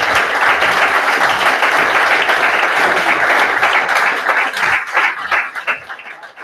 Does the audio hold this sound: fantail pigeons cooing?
no